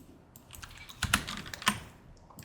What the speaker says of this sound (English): are you typing things that'll get you banned?